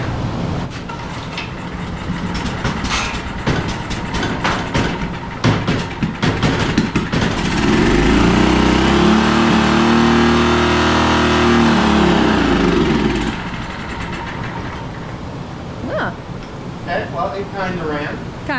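Small gasoline generator engine, being revived with a new carburetor and choke on, catches and runs loudly for several seconds amid surrounding clatter before dying back down; voices can be heard around it.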